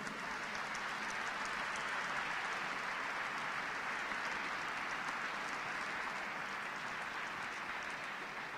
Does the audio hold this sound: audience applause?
yes